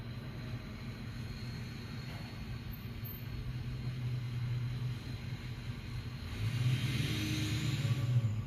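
A diesel truck engine runs nearby at a tailgate, a low steady rumble that swells slightly in loudness toward the end, heard alone without talk.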